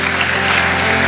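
Congregation applause in a church service, a dense continuous roar of clapping filling the whole moment at high loudness.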